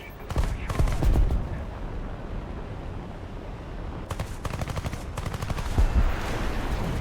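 Cannons on a Swedish jet in a combat flight video game fire in rapid bursts of gunfire, a burst near the start and another in the second half, loud and dense over continuous engine roar.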